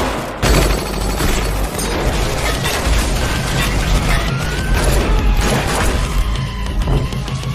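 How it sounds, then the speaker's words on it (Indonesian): Gunfire rattles through a chaotic gunfight in the action film Go For Broke, with dense bursts of shots and booms layered over a loud, continuous soundtrack. "di tengah baku tembak antara anak buah setia Mukun dengan pasukan Herta"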